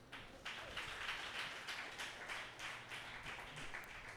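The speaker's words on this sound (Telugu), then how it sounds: "చప్పట్లు కొట్టు." An audience claps together in a church gathering, a steady dense patter of many hands that swells slightly and keeps going, moderately distant and fairly faint.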